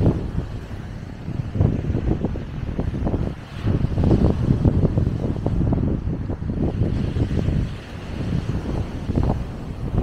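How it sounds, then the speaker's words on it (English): Ocean surf rolls onto the shore near a coastal radar station, a low, rumbling wash heavily buffeted by strong wind noise on the microphone, continuous and loud throughout. "You can hear the waves of the surf crashing behind me."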